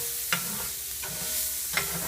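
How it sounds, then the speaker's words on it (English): Garlic and onions frying in a pan while being deglazed for lasagna, a steady close sizzle with a few sharp stirring scrapes of the utensil against the pan. "to cook the garlic and onions until they get deglazed"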